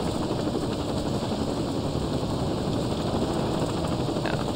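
A helicopter in the Saints Row 2 video game drones with a steady, loud rotor and engine roar that holds unbroken from start to finish, with no talking.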